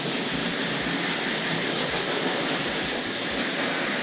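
A Hornby Dublo Bristol Castle model locomotive pulls Super Detail coaches around the track: a steady, close whirring hum with continuous fine clicking of wheels over rail joints, without pause or speech.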